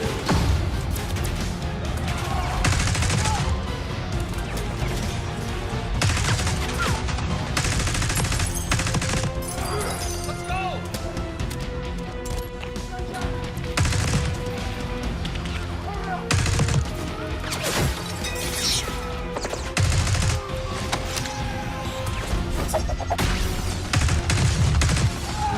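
Rapid video game gunfire, bursts of automatic and single shots crackling over a loud continuous game soundtrack, dense and near with no pause across the whole stretch.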